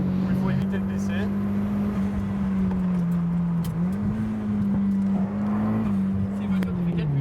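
A rear-wheel-drive drift car of about 250 horsepower on touring tyres slides with a sustained engine drone that rises and falls slightly, heard moderately close with voices talking over it.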